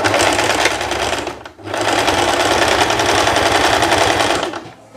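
A sewing machine runs a straight stitch along a lace dress, a loud, close, steady rapid whirring buzz in two long runs split by a brief pause.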